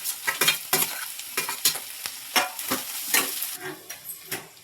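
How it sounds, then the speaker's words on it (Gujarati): Tomato, chili and cabbage fry in a pan, a loud close sizzle broken by a brisk series of scraping stir strokes from a utensil, with no voices. "હવે નાખી દઈએ ટમેટું ને મરચું ને કોબી."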